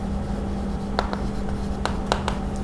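A pen writes on paper during an accounting lesson, a steady soft scratching broken by several sharper strokes, close and moderately loud with no speech.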